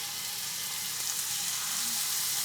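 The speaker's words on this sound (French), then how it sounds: "on attend que ça soit bien saisi de chaque côté" Venison steak sears in a hot pan, a steady, even sizzle of frying holding at a constant level throughout with no voices.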